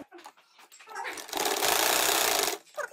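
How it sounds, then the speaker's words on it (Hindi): A sewing machine stitches a back neck design on fabric, a rapid mechanical whirr that runs for about a second and stops, with quieter shuffling and a voice before and after. "ये देखें, अब हम इसको सिलाई लगाने लगे।"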